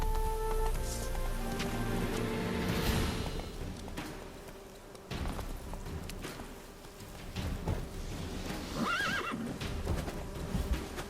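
A horse in The Witcher 3 whinnies and its hooves clop along at a steady pace, close and clear, with faint rustling underneath.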